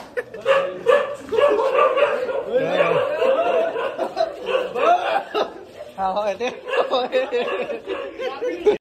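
A dog barks repeatedly at a group of people going door to door during Durga Puja, its barks tangled with loud chatter and chuckling laughter throughout.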